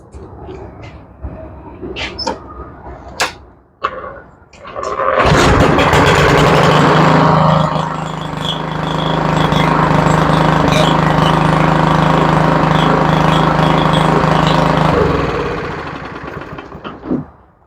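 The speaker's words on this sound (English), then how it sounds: "That is the strangest sounding lawnmower I've ever heard in my life." A Yard Machine push mower that has sat unused sputters and catches after a few knocks, then runs loudly at a steady idle, popping like a two-stroke, for about ten seconds before winding down.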